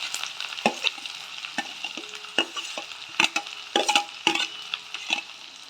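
Vegetables including onion and beans fry in a pan for Maggi noodles, a crackling sizzle broken by repeated scraping and stirring strokes, with occasional light metallic clinks.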